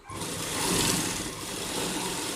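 A sewing machine stitches together the seams of loose lined palazzo trousers, a steady close mechanical whir running without a break for a couple of seconds.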